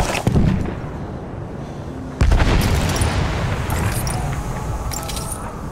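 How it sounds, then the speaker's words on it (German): A grenade goes off in the World War I shooter Battlefield 1: a sharp, loud blast lands early, then a second heavy boom follows with a rumbling tail, set against constant battlefield noise and distant crackle. "Granate ist raus, Köpfe runter!"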